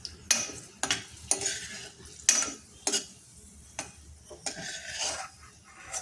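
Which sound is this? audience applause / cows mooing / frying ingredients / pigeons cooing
frying ingredients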